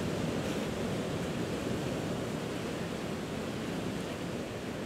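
Ocean surf rolls in steadily onto a sunset beach, a continuous, full roaring wash with no distinct breaks and no voices.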